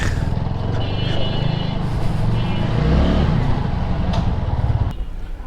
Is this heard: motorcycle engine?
yes